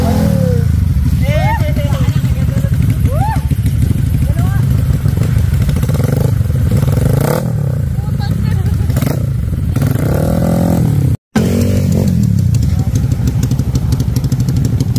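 A Honda Click scooter engine runs on a test ride on a rough dirt track, idling and revving in surges up close, with clattering and people talking over it.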